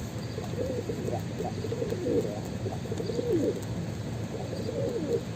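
A domestic pigeon, a tumbler-type breed, coos in repeated low rolling phrases close by, several bursts in a row over a faint background hum.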